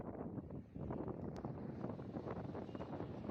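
Strong wind gusts across a harbour beside a railway bridge under construction, buffeting the microphone in a continuous low rumble with uneven surges and a brief dip early on.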